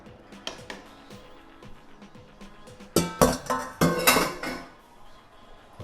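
Cooked Haitian vegetable legume is mixed in a pot, spoon clinking and scraping against metal in quick irregular strokes that grow louder and busier toward the end.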